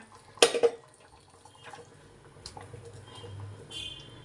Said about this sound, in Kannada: ಇವಾಗ ನಾನು ಸ್ವಲ್ಪ ನೀರು ಹಾಕೊಂತ ಇದ್ದೀನಿ